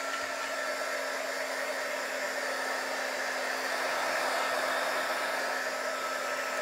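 A hair dryer blows steadily at close range, drying paint on a hand-decorated wooden garden sign, a continuous even whoosh with a faint whine and no talk.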